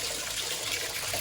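Water runs steadily from a tap while a bathroom is being scrubbed clean, a close, continuous broadband rush with no pauses and no talking.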